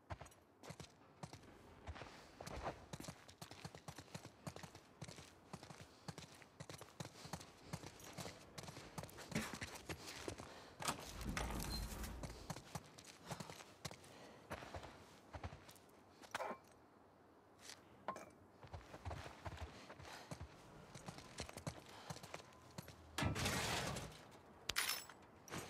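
Steady hoof clip-clop from horses moving along in the video game The Last of Us Part II, with broadband bursts and crashes layered over the rhythmic gait.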